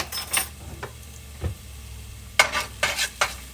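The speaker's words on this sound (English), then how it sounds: "To that, we're going to add 2 tablespoons of minced garlic" Two tablespoons of minced garlic hit a hot skillet and sizzle, with a few short scraping stirs and soft utensil clinks coming and going over a low frying hiss.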